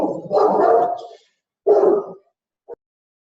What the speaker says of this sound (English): dog seems to be, as always, unhappy about something